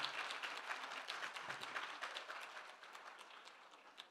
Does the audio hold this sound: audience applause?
yes